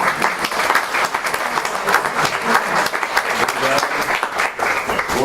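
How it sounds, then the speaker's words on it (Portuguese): A festival audience in Cabo Verde bursts into a round of applause, loud sustained clapping from a crowd with some voices mixed in. "Uma salva de palmas."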